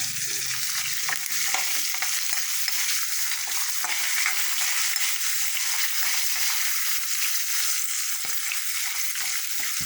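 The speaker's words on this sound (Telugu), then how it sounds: "పచ్చిమిరపకాయలు వేగాయి, పోపు వేగింది." Green chillies, curry leaves and asafoetida tempering in hot oil in a pan, giving a steady, close sizzle with scattered pops and occasional stirring clicks, no voices.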